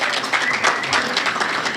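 Audience applause for congressional office representatives at a small business awards event, a dense, steady wash of many hands clapping, close and loud throughout.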